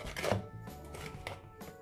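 Chocolate cake batter whisked by hand in a bowl, a quick burst of scraping, tapping strokes near the start, then softer intermittent stirring close up.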